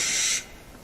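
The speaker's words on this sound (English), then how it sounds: "Sounds like some sort of animal. Like a bird or something of some kind." A short, eerie bird call rings out in a forest, a single bright high-pitched cry lasting under half a second before fading into quiet background.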